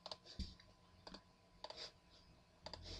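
A computer keyboard is being typed on, giving short bursts of clicky keystrokes close by, separated by pauses, with no talking.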